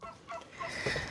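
Turkeys on a homestead farm gobble in a quick burst of rattling calls, fairly close and loud, building toward the end of the short stretch with no talking.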